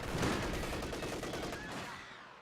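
Rifle fire in Company of Heroes 2, a dense burst of overlapping gunshots in quick succession that tails off over a couple of seconds, loud and close.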